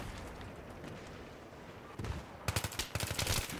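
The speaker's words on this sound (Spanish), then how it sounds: "Vale, vale, me están disparando." Gunfire in the video game Battlefield 3 on a pipeline assault map: a rumbling wash of distant shooting, then a burst of sharp, loud rapid shots near the end.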